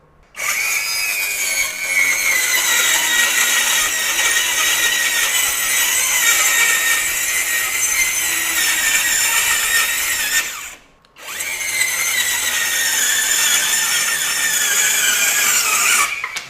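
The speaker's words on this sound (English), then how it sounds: "So in the 3/4 inch OSB, not a lot of problem in cutting." A Masterforce 20V brushless 4-1/2-inch ultra-compact circular saw cuts through 3/4 inch OSB with a steady, loud high-pitched whine, running continuously, breaking off briefly near the end, then spinning up into a second cut.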